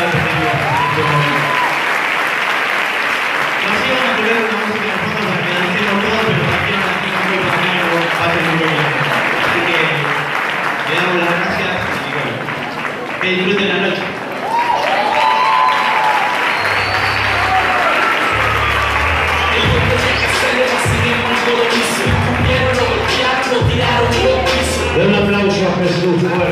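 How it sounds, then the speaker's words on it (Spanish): Loud, sustained applause from a church youth group's theatre audience, a dense wash of clapping across the whole span with voices and some music heard over it. "Y quiero que le den un fuerte aplauso a eso"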